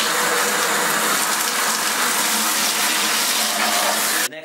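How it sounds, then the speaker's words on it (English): Water gushes loudly and steadily into a bucket from a close tap, then cuts off abruptly near the end. "you need about 2 gallons of water to fill up in the bucket."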